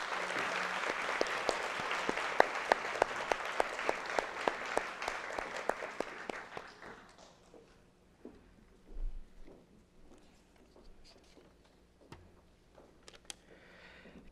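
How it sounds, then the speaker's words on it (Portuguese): An audience at a social work graduation ceremony claps steadily for about seven seconds. The applause then thins to scattered claps, with faint room noise and movement. "Agradecemos aos membros com uma salva de palmas."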